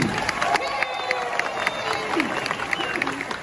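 Crowd applause and cheering at a Hollywood Studios 35th anniversary celebration, a steady wash of clapping with scattered voices and shouts mixed in, continuing throughout.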